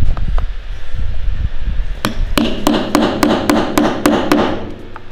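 A small pin insertion tool taps a pin into a car key, first a few scattered knocks and then a quick run of about eight sharp, evenly spaced metallic taps, close and loud, with no talk.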